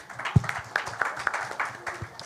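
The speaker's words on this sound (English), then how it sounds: "A huge round of applause for him" Scattered applause at a Filmfare Awards press meet: a few individual claps ring out sharply and unevenly, sparse rather than a full ovation, with faint room murmur between them.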